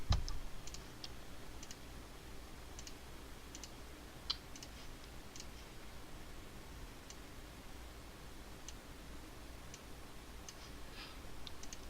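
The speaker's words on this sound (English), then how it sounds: "There's a lot of clicking around." A computer mouse clicks while someone draws pixel-art characters for a horror game. The clicks are faint, sparse and irregular, over a low steady hum, with no talking.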